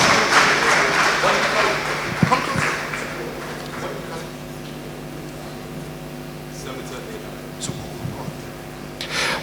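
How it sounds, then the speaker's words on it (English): An audience at an investment summit gives a round of applause, a burst of clapping that fades quickly into a steady hum of room noise, with a few sharp claps later. "Please give him another round of applause."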